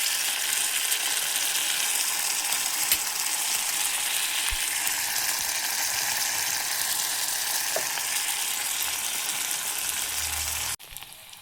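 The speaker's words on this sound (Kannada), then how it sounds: "ಫ್ರೈ ಆಗ್ತಾ ಇದೆ ಇದು." Food fries in a pan with a steady, close sizzle that continues without a break for about eleven seconds and ends in a brief clatter. No one speaks.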